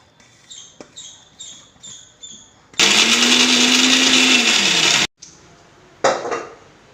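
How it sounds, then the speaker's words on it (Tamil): A mixer grinder roars loudly for about two seconds grinding coconut and cumin, stopping abruptly, with light clinks and taps of kitchen utensils before and after. "அதுக்கு தேங்காய் சீரகம் உருளைக்கிழங்கு பொரியலுக்கு அரைச்சிக்கலாம்"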